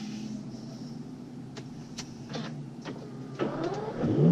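An Aston Martin at a performance center on a racetrack, its starter cranking before the engine catches and settles into a steady idle, then a louder burst as it revs, heard close up with no talk.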